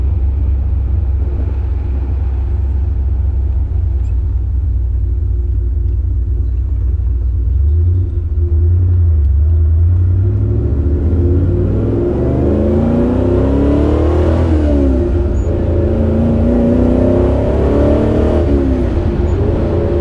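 A Maserati Ghibli Spyder 4.9 SS engine rumbles loudly while driving, then revs up with rising and falling pitch as it pulls, heard close and steady without talk.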